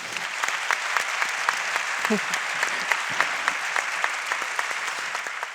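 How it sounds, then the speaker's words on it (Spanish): A studio audience at a Spanish talk show applauds steadily, a moderately distant, even patter of many hands with a few sharper claps and faint voices underneath. "Un aplauso para él."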